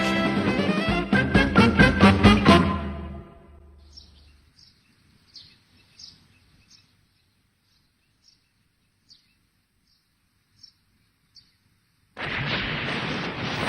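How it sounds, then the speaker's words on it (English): A burst of loud, rapid booming blasts, followed by quiet with scattered faint high chirps, then a loud rushing roar returns at the end. "Hey, Doc, isn't it a bit early for explosions?"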